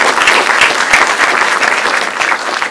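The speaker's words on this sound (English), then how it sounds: "So another round of applause for all of you guys." Dense, loud applause from the audience at a student fund managers finance event, steady clapping throughout with no talk over it.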